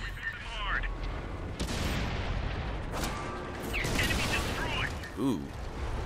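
Tank cannon fire and battle noise from World of Tanks on console, a few booming shots and mechanical clatter under continuous talk.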